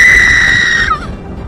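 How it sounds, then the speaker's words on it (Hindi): Woman's painful scream from inside a hut during a storm, a single loud high-pitched cry held for nearly a second before breaking off and fading. "अचानक झोपड़ी के अंदर से एक दर्दनाक चीख सुनाई दी"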